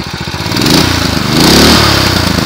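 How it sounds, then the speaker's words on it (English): A Predator 212cc small engine revs loud and close, its rough, rapid firing rising in pitch and holding high before easing slightly, with no voices over it. "And this is it revving."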